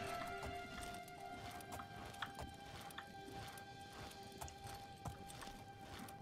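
Horse hooves clip-clopping steadily while riding in the role-playing game Nehrim, an even walking rhythm over a droning ambient music bed, moderately loud and without talk.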